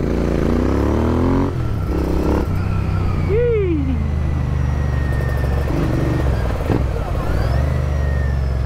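A custom Royal Enfield Interceptor 650 Tracker motorcycle runs loudly and continuously while riding, with a deep, throaty exhaust note, rising and falling as it revs and shifts.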